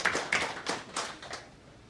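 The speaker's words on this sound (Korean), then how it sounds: "야, 박수 한번 칩시다." A church congregation claps briefly and sparsely, about half a dozen quick, fairly quiet claps that trail off within two seconds.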